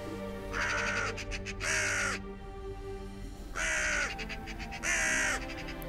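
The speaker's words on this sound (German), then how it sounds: "Schaut mal, der Rabe da vorne." A white raven caws four times in a fan-made fantasy audio drama, harsh drawn-out calls in two pairs with a pause between, loud and close over a low ambient backdrop, with no talking.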